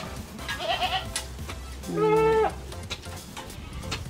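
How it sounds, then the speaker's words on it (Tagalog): A native goat bleats twice, a short cry followed by a louder, longer wavering bleat, close by with faint outdoor background noise. "Ating native na kambing"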